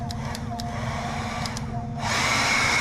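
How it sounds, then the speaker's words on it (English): A steady broadband whir of a hair dryer blowing to dry white paint on a fishing lure, growing louder and brighter near the end, with faint clicks and tones over it. "Now that I got it painted white, I take a hair dryer"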